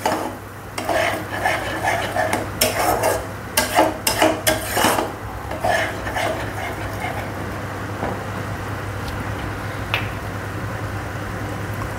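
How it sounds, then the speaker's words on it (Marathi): Masala sautés in oil in a pan until the oil separates at the sides, with a low steady sizzle beneath, while a spoon scrapes and clanks against the pan in a cluster of sharp strokes before quieting to a soft hiss. "1-2 मिनटं अजून हा परतून घेऊया आपण."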